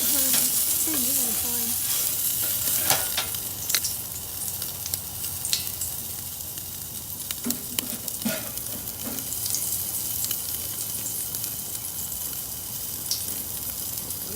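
Food sizzling and crackling on an Otto Wilde high heat grill under one burner, a steady bright hiss broken by sharp pops and spits, close and continuous with no talk.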